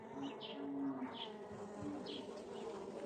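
Carniolan and Caucasian honey bees hum at an open hive in spring, a dense steady buzz near the microphone with individual bees droning past.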